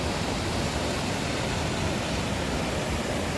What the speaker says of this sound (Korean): 수량이 풍부하여 물소리 이외에는 아무것도 들리지 않으며